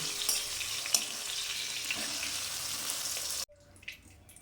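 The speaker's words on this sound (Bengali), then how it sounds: "অল্পটুকু লবণ, অল্পটুকু হলুদ দিলাম, দিয়ে ভেজে দিলাম" Flat beans frying in hot oil with a little salt and turmeric, a steady close sizzle that cuts off abruptly near the end, leaving faint kitchen sounds.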